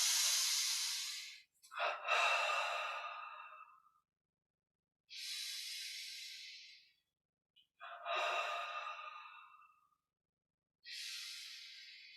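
Slow, deep breaths during a guided meditation exercise, airy inhales and long hissing exhales in a steady cycle separated by silent pauses, close and clear with no talking.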